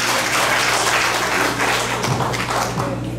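A church congregation applauds at an anniversary service, dense continuous clapping filling the room, loud and close throughout.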